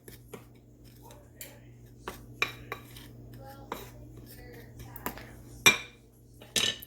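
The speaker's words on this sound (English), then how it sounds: "You can take a spoon or your finger sometimes just to stir it all together." A spoon stirring seasoning and flour together in a dish for pork chops, quiet with scattered sharp clinks and scrapes against the dish over a low background hum.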